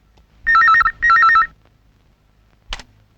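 A telephone rings twice in quick trilling bursts, loud and close, in a Hindi romantic film scene, followed by a short faint click after a pause.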